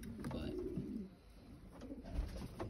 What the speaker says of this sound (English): beautiful, beautiful bird.